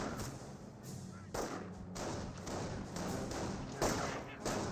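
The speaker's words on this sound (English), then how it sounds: "You now have a mortar half track there. Does get a shot." A mortar half-track fires in Company of Heroes, shown as repeated dull thumps and thuds over a busy battlefield bed of scattered gunfire and low rumble, with a person talking over it.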